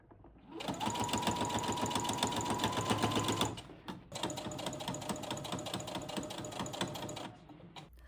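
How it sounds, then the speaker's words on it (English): Sewing machine top stitching through bulky quilt fabric, a fast steady mechanical whirring run of about three seconds, a brief pause, then a second long run, close and clear with no talk. "sew this on and then fold it over and then top stitch"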